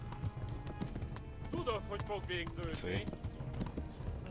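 Horse hooves clip-clop softly in Kingdom Come: Deliverance under a player's talk, with a faint whinny in the middle and game ambience throughout.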